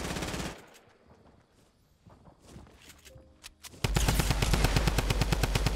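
Automatic gunfire in Fortnite Battle Royale: a rapid burst at the start, a quieter stretch with faint footsteps, then loud sustained rapid-fire shooting to the end.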